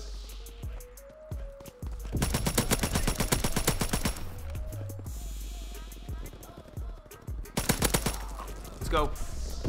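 Rapid full-auto bursts from an M1A1 carbine in Call of Duty WW2, two loud sustained strings of fire plus scattered shots, mixed with game sound effects and a voice talking over the action.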